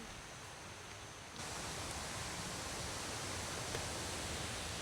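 Waterfall at a riverside lodging in Laos, a continuous hissing rush of water that swells louder partway through as it comes nearer, with no voices.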